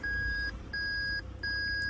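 Three loud, evenly spaced electronic warning beeps from a Toyota Land Cruiser 300 Series, each a steady tone lasting about half a second, over a low 3.3-liter diesel engine hum.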